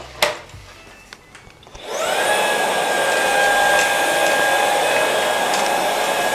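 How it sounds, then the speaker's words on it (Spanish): A few knocks and clicks, then a Ryobi RSV 18X-1X40G cordless stick vacuum whirs on with a steady, high-pitched motor whine and airy rush that continues unbroken. "Y ahora pues vamos a aspirar."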